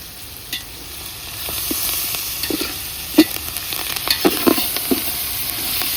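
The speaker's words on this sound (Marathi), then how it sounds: "चांगले कोथिंबीर टाकून चांगले हलवून घ्यायचे. जाळ बी चांगला जोरात लागलाय आपल्या चुलीला." Coriander is stirred into mutton dum biryani with curd cooking in a pot over a strongly burning wood-fired stove, a steady sizzle broken by irregular scraping and clacking stirs, close and moderately loud.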